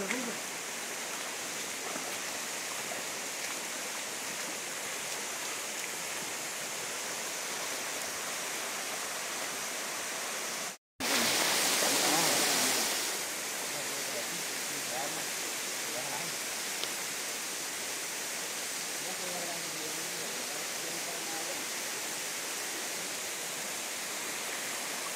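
Waterfall in the Serranía del Quinza canyon, a steady broadband roar of falling water throughout, briefly cut and disturbed midway, with faint voices in the background.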